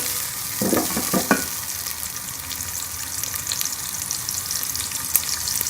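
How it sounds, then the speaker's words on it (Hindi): Onions browning in hot ghee for an aloo baingan sabzi, a soft continuous sizzle with a few utensil knocks early on, close but moderately quiet, nobody speaking. "हम प्याज को ब्राउन कर लेंगे।"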